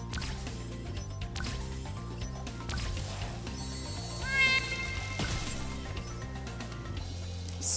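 Cats meowing in a cat fight within the Spyro the Dragon game, sharp rising meows and yowls over a steady game music backdrop, mid-level and close.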